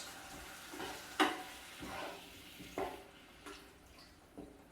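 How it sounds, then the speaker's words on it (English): Vietnamese chicken curry is stirred in a low, wide pan: soft, faint scraping and gentle sizzling, with a few sharper clicks of the utensil at irregular intervals. "stir that up, mix it all round"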